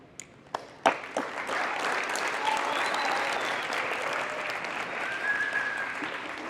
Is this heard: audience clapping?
yes